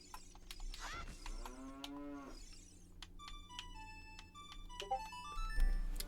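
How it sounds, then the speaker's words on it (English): A cow in the video game Zelda: Ocarina of Time gives a sustained, wavering moo. Chiming game music and jingly tones follow it, all close and clear, with no talking. "and there is a cow"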